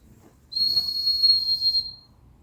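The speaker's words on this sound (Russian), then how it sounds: "Вот так вот делаем протяжный такой свист и подкидываем кусочек корма." A single long, steady high-pitched whistle held for about a second and a half, blown to train a puppy to look back at its owner, clear and close with faint background noise.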